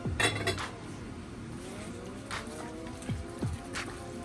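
Spoon scraping lobster meat from a bowl into a pot of cheesy seafood mac, a few clinking metal-on-ceramic scrapes and knocks, fairly close and quiet with no talking.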